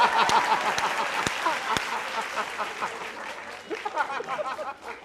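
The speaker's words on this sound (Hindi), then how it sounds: "इस बात के लिए तालियां हैं।" A studio audience on a TV talk show about politics claps with mixed chuckles, the applause loud at first and then fading, while talking continues underneath.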